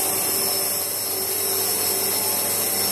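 Polishing the welds on panels of an old bulk milk tank evaporator, a loud, steady abrasive whine of a power polisher held close and constant throughout, with no talk.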